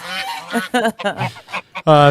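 Canada geese honking at a pond, a string of loud, nasal, harmonic honks in uneven bursts with short gaps, close by, ending in a long strong call.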